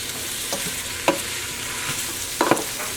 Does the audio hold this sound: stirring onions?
yes